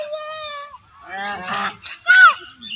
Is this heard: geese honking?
yes